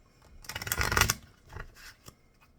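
A deck of playing cards is shuffled, a quick riffle of rapid flutters followed by a couple of softer riffles and a light tap, close and quiet with no talking.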